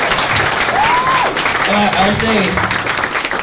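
A comic convention panel audience at NYCC 2018 gives a brief patter of applause, lively but modest, with panelists' voices talking over it.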